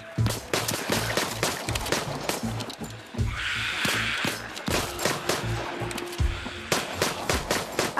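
Rapid bursts of gunfire in the VR zombie shooter Arizona Sunshine, with loud repeated shots and automatic volleys close by, continuing steadily with no talking.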